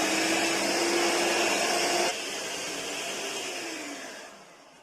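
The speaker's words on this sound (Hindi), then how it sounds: "इसको दोबारा से जो है वो 5 से 10 मिनट के लिए हमने बीट करना है" An electric hand beater whirs steadily at high speed through cake batter with vanilla essence, loud and close, its motor pitch dropping slightly midway before the sound tapers off at the end.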